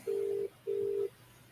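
A telephone dialing out to place a call: two identical steady tones, each about half a second long, separated by a short gap, with faint room hum between them.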